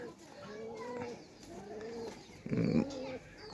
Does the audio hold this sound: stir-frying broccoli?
no